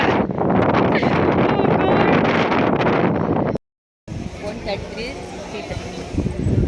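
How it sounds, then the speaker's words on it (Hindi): Strong seashore wind at Kanyakumari buffets the microphone in a loud, continuous roar, cutting out briefly, then returning more softly with people talking under it. "यहाँ इतनी तेज हवा चल रही है, मतलब कपड़े संभालने पड़ रहे हैं"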